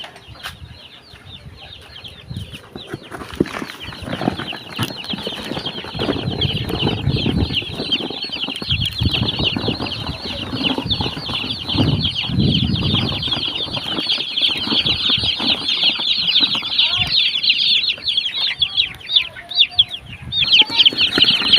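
Newly bought chicks in a cardboard box chirp constantly in a dense, high-pitched chorus, with rustling and shuffling underneath, close by and no talking.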